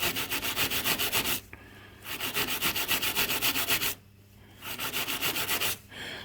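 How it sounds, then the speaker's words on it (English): A small brass wire brush scrubs an aluminium engine part from a Honda Big Red 300FW in close, rapid back-and-forth strokes, three steady bursts separated by short pauses, with no talking. "this little brass wire brush is great for cleaning up aluminium"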